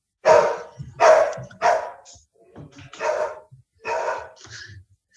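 Several dogs bark in a house: five or six loud, harsh bursts come in an uneven string about a second apart, with short quiet gaps and a few softer yips between them.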